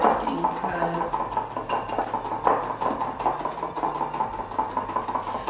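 Dalgona whipped coffee being whisked in a bowl, a continuous close scraping and clinking of whisk against bowl that runs steadily throughout.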